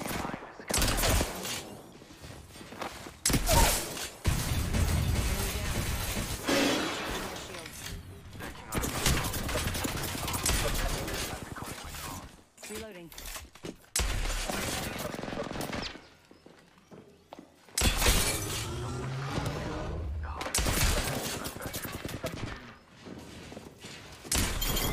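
Gunfire in Apex Legends comes in bursts of rapid automatic shots with mechanical clatter, loud and near, broken by short quiet gaps, while a player talks over parts of it.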